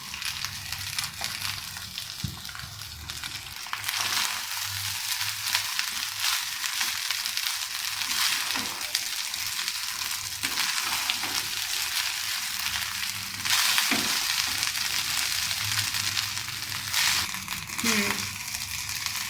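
Rice stir-fried in hot oil with cooked egg for chicken vegetable fried rice, a continuous loud sizzle with scraping and stirring scratches from the pan, occasional louder crackles, steady throughout.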